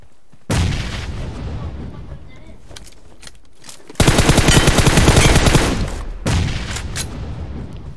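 Gunfire in the PUBG Mobile game during a duo versus squad match: loud bursts of rapid automatic fire, with one long sustained volley in the middle, while players talk over it.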